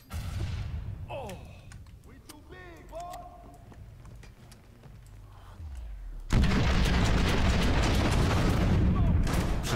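A grenade detonates in the Watch Dogs video game, a sudden loud explosion that follows a stretch of quieter in-game sounds and someone talking.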